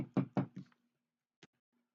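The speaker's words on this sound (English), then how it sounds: "And I'm knocking on wood." Knuckles rap on wood up close: three quick knocks in a row, then a single knock after a short pause, with silence around them and no talking.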